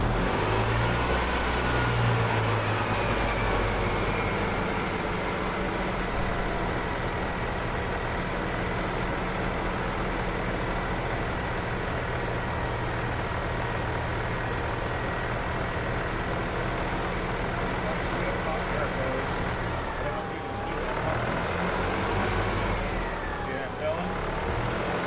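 The gas engine of a 1997 EZGO TXT golf cart runs at a steady, close, continuous idle hum with a low rumble throughout, dipping briefly near the end before settling again; a voice is faintly audible at times.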